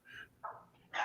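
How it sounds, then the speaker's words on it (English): A dog barks three times in quick, uneven succession, close by and moderately loud, each bark short and sharp with a brief gap between them. "Are your dogs okay over there?"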